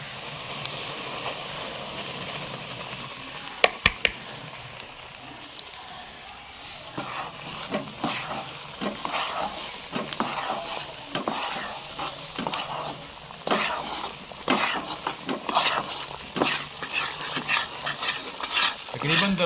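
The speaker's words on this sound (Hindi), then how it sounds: "चम्मच इसमें 15-20 मिनट आपने लगातार चलाना है" A spoon stirs 750 grams of wheat flour roasting in oil in a pan for flaxseed laddu, with soft frying hiss and repeated scraping strokes that grow busier and more rhythmic partway through.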